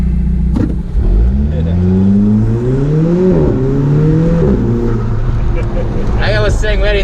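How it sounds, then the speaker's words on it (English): Alfa Romeo 4C Spider with manual gearbox driven through town, engine note rising and dropping through shifts, a higher rev burst near the end, with someone talking over it throughout. "listen to that shifting"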